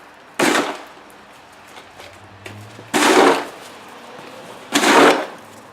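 Snow shovel scooping a load and flinging it off with a twist, heard as three sharp scraping bursts spaced a couple of seconds apart, fairly close with quiet gaps between.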